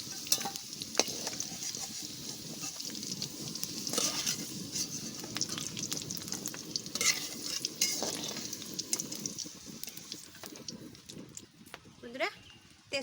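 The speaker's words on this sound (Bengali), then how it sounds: "আলুর ভিতরে একটু লবণ দিয়ে দেবো এরকম করে ভাজা করবো আলু" Potatoes fry with a steady close sizzle in a pan, broken by scraping stirs and clatter throughout, with a brief squeak near the end; no talk is heard over the cooking.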